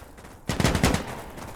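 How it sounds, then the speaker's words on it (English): Gunfire in the tactical shooter game Insurgency Sandstorm: a sudden loud burst of rapid shots lasting about half a second, standing alone after a quiet lead-in. "Papa Smoke, please shoot that bitch"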